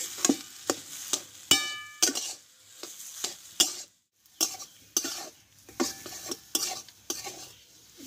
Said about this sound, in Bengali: ঘিটা দিয়ে কিছুক্ষণ নাড়াচাড়া করে আমি এই পুরটাকে নামিয়ে আমি ঠান্ডা করে নেব।